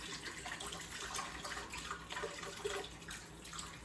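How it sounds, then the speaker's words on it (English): Coconut water pours into a blender, a faint, steady splashing trickle of liquid heard alone for a few seconds. "I'm going to be taking coconut water"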